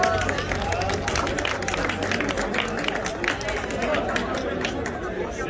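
Spectators at an amateur cycling race's results ceremony in Lonate Ceppino give scattered, brisk applause, their claps rising over a continuous babble of nearby crowd chatter.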